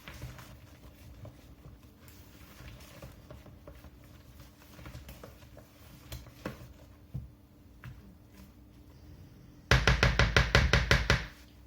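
Rapid, even run of loud knocking taps from flour being stirred into muffin batter in a bowl, bursting in near the end after quiet, faint handling sounds.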